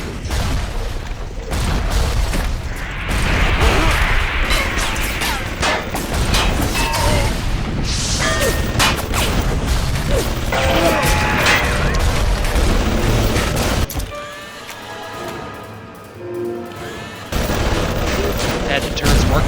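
Automated turrets in Bioshock Remastered open fire on an enemy, rapid bursts of gunfire and booms at close range mixed with mechanical clatter, easing into a quieter stretch before resuming, with someone talking over it at times.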